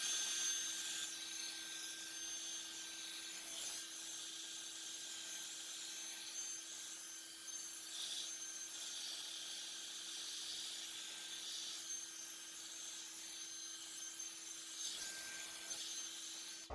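A hair dryer running on hot with high airflow during curly hair styling, a steady continuous whooshing roar with a faint motor whine, unbroken and fairly close throughout.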